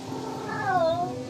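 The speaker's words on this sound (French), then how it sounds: "on voit que le gros chat noir pousse des miaulements longs" A big black tomcat lets out a single long, drawn-out courtship meow that rises and then falls, heard close and clear over a quiet background.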